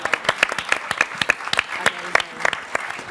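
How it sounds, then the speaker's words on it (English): Audience applause at a PaleyFest 2013 panel for The Walking Dead, a burst of many hands clapping in quick, even rhythm, close and fairly loud for its whole length. "I'll tell Seth that we clapped."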